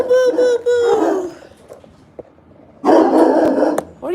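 A dog barks and growls close by, with a couple of tonal yelping barks, a low rumbling pause, then another burst of barking, and a person's voice mixed in briefly.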